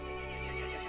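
A horse's neigh from the survival horror game Resident Evil Village, a short continuous whinny heard close and alone over a dense background of game music and ambience.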